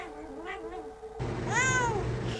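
A house cat gives a couple of short, close meows, the second louder and more drawn out, with no talking.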